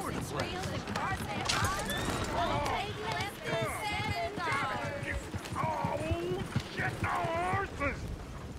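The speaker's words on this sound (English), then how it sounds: "Oh, shit, the horses! Damn horses." Horse hooves clip-clopping and running in the Western video game Red Dead Redemption 2, set in the town of Valentine, steady hoofbeats mixed with creaking and clattering under several overlapping voices and shouts.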